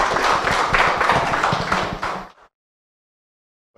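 Audience applause welcoming a guest lecturer at a talk on labour subcontracting schemes, a steady burst of many hands clapping for about two seconds that fades out and ends in silence.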